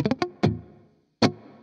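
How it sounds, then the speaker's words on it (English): An electric guitar played through the Amplitube iOS app with its room reverb effect on: a few plucked notes and strums ring out with a short roomy tail, and a final strike sustains and fades, with no talking. "You should hopefully be able to hear a little bit of verb on there as well."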